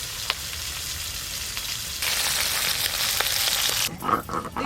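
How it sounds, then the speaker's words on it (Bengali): Fish being lightly fried in a pan of oil for a fish curry, giving a steady, fairly close sizzle that grows louder partway through and then breaks into softer spitting and crackles near the end. "ঝোলের মাছ একদম হালকা করে ভেজে নেব, খুব বেশি কড়া করে ভাজবো না।"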